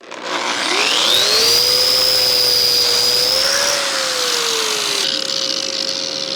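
A Hilti DGH130 concrete grinder with dust extraction runs loudly and close up: a high whining motor spins up, holds a steady tonal roar with a slight pitch sag under load, then settles to a lower steady whine. No one speaks.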